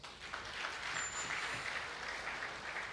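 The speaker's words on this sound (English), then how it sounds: "Let's express our gratitude for his dedicated service with a warm round of applause." A dense, even patter of audience applause fills a provincial installation ceremony for a religious order, moderately quiet and steady from start to finish.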